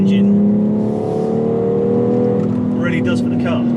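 A 2019 BMW X3 M engine pulling on the road, a loud, steady engine note with its pitch slowly climbing as the car accelerates. Brief talk cuts in near the end.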